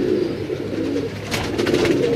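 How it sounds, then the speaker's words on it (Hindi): Grey diamond pigeons coo in a steady, overlapping murmur from a loft in Lahore, the low throaty calls continuous and fairly close, with no talk over them. "बहुत लाजवाब कबूतर हैं जी।"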